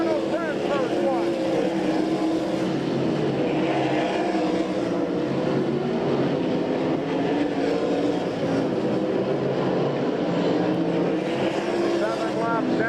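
Sprint cars racing on a dirt track at an All Star Circuit of Champions event in Abbottstown, Pennsylvania, a steady dense engine roar filling the whole stretch with rising and falling pitches as cars pass, under a race announcer's talk.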